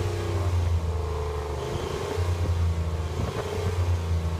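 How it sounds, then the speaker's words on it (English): A car engine rumbles and revs through an aftermarket muffler, with a low droning exhaust note that swells and dips twice at close range. "I can hear his engine."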